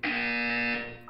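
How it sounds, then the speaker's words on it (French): A single steady electronic buzzer sounds in the video game Portal 2, loud and harsh for about a second before cutting off. "You will hear a buzzer."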